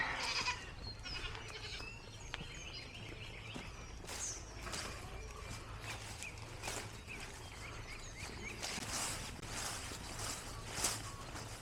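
Goats bleat repeatedly at feeding time, mama goats and pregnant goats near kidding calling out in short overlapping cries over a steady low farm hum, some close and loud, others further off.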